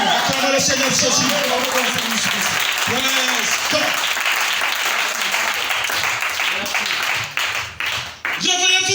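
A church congregation applauds and cheers in sustained, loud, dense clapping through most of the stretch, with voices mixed into the crowd noise before it briefly thins near the end.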